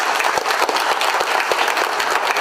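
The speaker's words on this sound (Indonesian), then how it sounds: "Kita beri tepuk tangan buat semua." A workshop audience of company directors bursts into dense, steady applause, loud and sustained throughout with no break.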